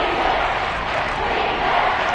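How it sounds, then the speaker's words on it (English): The stadium crowd in a Chargers versus Chiefs football video game roars ahead of a big third down, a dense, steady, loud wall of cheering with no distinct voices standing out. "The crowd getting into it as we come up on a big third down."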